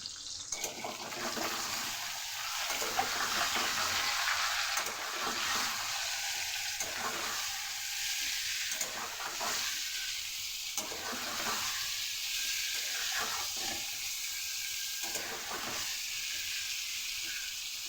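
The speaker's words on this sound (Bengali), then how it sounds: "এর মধ্যে নুন আর হলুদ দিয়ে ভালো করে ভাজবো" Raw green banana pieces frying with salt and turmeric in a pan, a steady close sizzle broken by repeated stirring scrapes, with no talking.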